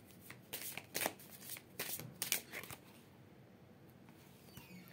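Tarot cards being shuffled by hand for a reading, a close soft flutter of riffling cards in several quick bursts before it settles into quiet, with no talking.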